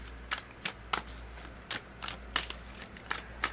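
Oracle cards are shuffled by hand in a quiet room, a run of crisp riffling bursts and soft slaps coming in an uneven rhythm close to the listener.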